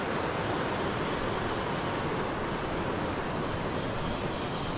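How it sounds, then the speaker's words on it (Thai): Rainy-season water rushing down a mountainside in the Laos highlands, a steady, dense roar of flowing water that holds constant and loud throughout with no voices. "จุดนี้น้ำไหลมาเต็มภูเลยค่ะ"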